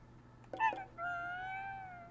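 A cat lets out a short chirp and then a longer drawn-out meow indoors, close and clear against a low steady hum.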